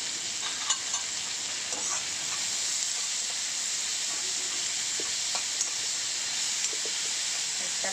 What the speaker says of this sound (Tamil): போட்டுட்டு வெங்காயமும் உப்பையும் போட்டு நல்லா வதக்கிடணும்